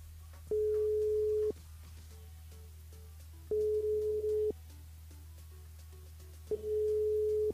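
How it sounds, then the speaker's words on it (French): A telephone ring tone repeats three times unanswered during a live radio call: steady one-second electronic tones separated by about two seconds of silence, clear and even over a low background hum. "Ça sonne, mais ça répond pas."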